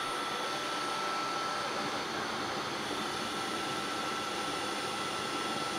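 A Tineco Carpet One spot carpet cleaner runs on carpet with a loud, steady motor whine and suction hiss, constant and close with no pauses.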